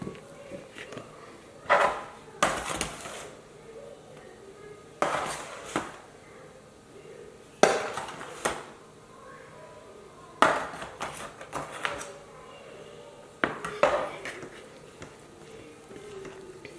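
A spatula scrapes and knocks against a bowl while mixing thick cake batter for a large homemade cake, with sharp taps and scraping strokes recurring every couple of seconds over a quiet room.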